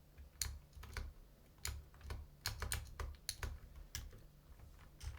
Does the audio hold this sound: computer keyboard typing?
yes